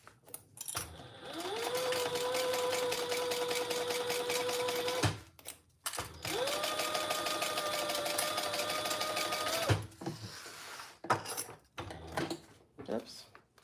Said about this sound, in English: And then we'll sew that at the full seam allowance.